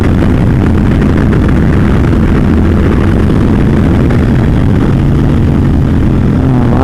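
A tuned Suzuki street motorcycle is ridden hard on winding roads, and its engine roars loud and close. Wind buffeting fills the recording with a constant, saturated rumble.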